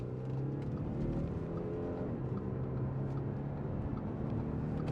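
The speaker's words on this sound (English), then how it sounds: "that sounds pretty awesome for a diesel engine too" A 2013 Audi SQ5 3.0 BiTDi diesel with Tiptronic quattro revs while driving, a steady, low engine drone heard from inside the cabin, rising and falling slightly with no talking over it.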